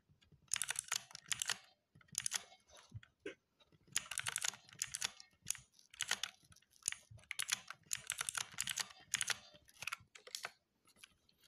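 Keyboard typing with bursts of rapid key presses separated by short pauses, including a Ctrl+D shortcut, close and fairly quiet with no talking.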